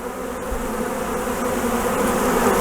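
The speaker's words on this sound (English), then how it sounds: "Bees are fun to watch." Honeybees buzz at a hive, a steady, dense drone from many insects close by that holds at an even level throughout, with no voices.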